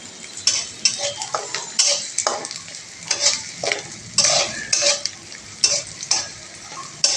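Onions frying in a pan until reddish, with busy close stirring: bursts of sizzle and spatula scrapes against the pan in an uneven rhythm, with no voices.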